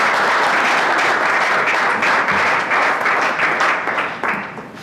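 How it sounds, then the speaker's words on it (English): Loud, sustained applause from an audience at a Salford City Black History Month event, dense steady clapping close by that welcomes a speaker coming up and tapers slightly near the end. "Give him a nice round of applause"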